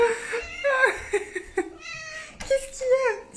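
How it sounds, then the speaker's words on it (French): A cat meows repeatedly and close by in a house, with several drawn-out, rising and falling cries, while a person speaks briefly between them. "c'est le chat."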